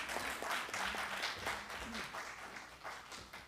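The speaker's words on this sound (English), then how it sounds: "A bigger round of applause for JN." An audience at an education conference applauds, a dense burst of many hands clapping that starts strong and gradually thins out.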